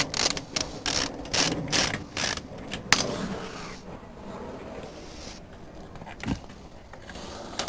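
A ratchet spins a nut on a motorcycle chain, its rapid clicking coming in several close, loud bursts over the first few seconds, then quieter handling noises and a single knock later.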